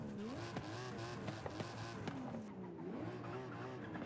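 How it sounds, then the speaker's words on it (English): A Dodge Viper in the Forza racing game, its engine revving steadily with rising and falling pitch, tires squealing faintly at moments, heard up close and alone at moderate volume. "Give it a couple of revs."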